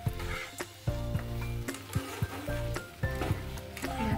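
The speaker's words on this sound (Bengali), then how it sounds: "দেখো বেশ সুন্দর করে নাড়িয়ে নিচ্ছে" Paneer posto mixture is stirred in a pan with a steady frying sizzle and repeated scraping strokes of a spoon against the pan at an uneven rhythm.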